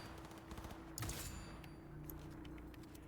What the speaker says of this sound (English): Oh shit, the cops are shooting at me.